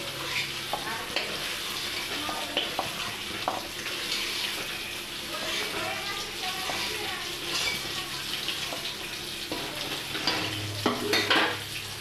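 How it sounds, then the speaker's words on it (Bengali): Turmeric-dusted paneer cubes fry in hot oil and are stirred around the pan, giving a continuous close sizzle broken by clinks and scrapes of the utensil. The clattering grows busier near the end. "পনিরগুলো আমার ভাজা হয়ে গেছে"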